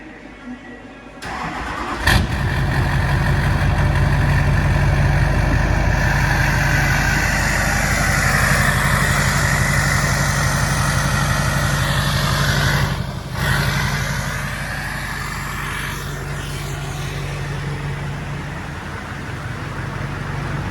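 A Duramax diesel pickup with an EGR delete and 4-inch straight pipe cranks briefly, fires up, and settles into a loud, steady, deep-throated idle heard up close.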